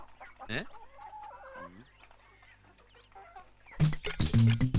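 Hens clucking in a backyard coop, a series of close clucks and throaty calls early on, then a louder burst of overlapping squawks and cackles near the end.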